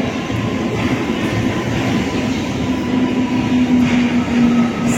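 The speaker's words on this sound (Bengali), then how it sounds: "সাউথ ইস্টার্ন হাওড়ার দিকে যাচ্ছে এই ট্রেনটা।" Passenger train rolling through Santragachi railway station, a loud, close, continuous rumble of wheels on rails with a steady low drone and faint clatter, sustained for several seconds without speech.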